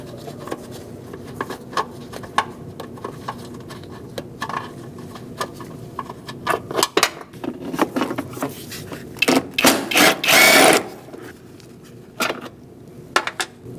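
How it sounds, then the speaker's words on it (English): A ratchet with a 10mm socket and swivel works bolts loose on a 2004-2012 Chevrolet Colorado, giving scattered metallic clicks and clinks, with a louder burst of clatter near the end. "we're going to take out these 2 bolts. I'm going to do this one first, using a 10mm socket and a swivel"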